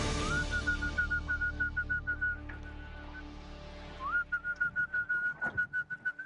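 A person whistles two runs of short, repeated high notes in a bouncy rhythm, with a brief pause between them, close and clear.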